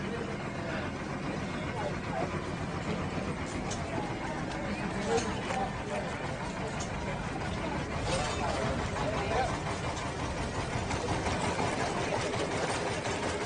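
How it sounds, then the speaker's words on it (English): The original Gardner hot bulb semi-diesel engine of a historic narrowboat runs with a steady, dense rumble at a boat show, continuous and close. Talk is heard over it throughout. "Skylark has an original Gardner hot bulb semi-diesel engine."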